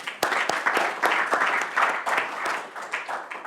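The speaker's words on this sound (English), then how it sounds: "So another round of applause for all of our speakers." An audience at a DevNet 2022 conference session on navigating crisis, conflict and change claps for the speakers, a short burst of scattered, moderately loud hand claps with distinct individual hits.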